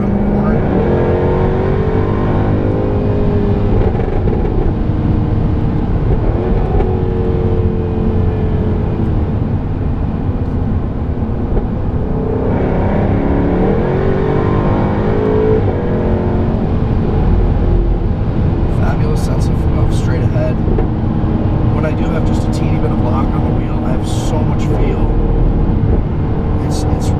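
A 2016 Jaguar F-Type R AWD Coupe on the move, its engine droning steadily under road and cabin noise throughout, with someone talking over it.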